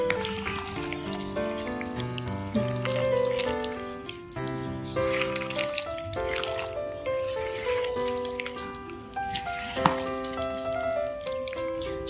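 Oily homemade mango pickle being stirred in a container, producing wet, squelching and dripping sounds with scattered clinks of the spoon, close and moderately quiet, with no talking.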